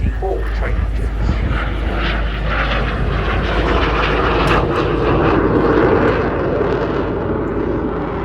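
A BAC Strikemaster jet flies at the Southport Airshow 2024, its engine producing a loud, steady roar that fills the whole stretch while an announcer talks over it.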